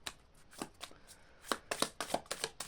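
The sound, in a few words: drawing a card from a tarot deck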